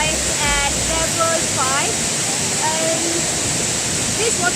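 Tampik Waterfall, a seven-tier waterfall seen from its fifth tier, a loud steady rushing roar of falling water with a few bird chirps over it.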